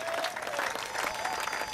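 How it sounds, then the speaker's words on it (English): An audience at a Mustang Mania 2011 event at a Ford dealership claps steadily in a dense, even wash of applause lasting the whole stretch, with no speech over it. "give her a round of applause"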